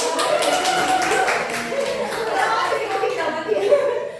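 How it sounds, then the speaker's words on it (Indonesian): Elementary school pupils clap in a classroom during a teacher training session, a short burst of scattered claps mixed with chuckles and speech. "Bagus, tepuk tangan dulu."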